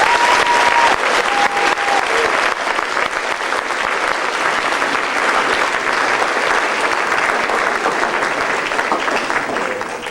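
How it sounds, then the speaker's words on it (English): A concert audience at a high school band spring concert applauds the graduating seniors, a dense, steady roar of clapping filling about ten seconds at close range with no talk. "so please give them another round of applause."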